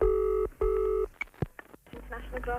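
A telephone is dialed in a short comic radio sketch, with two long, loud tone bursts followed by brief clicks and then a burst of speech-like sound.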